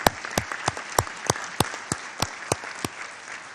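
Audience at the United Nations in New York applauding young people with a rhythmic, evenly spaced clap, roughly three beats per second, clear and fairly close, with no talking over it.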